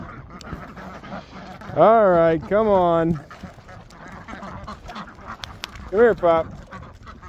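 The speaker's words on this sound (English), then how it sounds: "Chickens in the corner and the ducks are yelling." Ducks quack and call loudly from a muddy, rain-soaked farmyard pen with chickens nearby, three harmonic bursts rising and falling close to the listener while a person talks to a puppy in between.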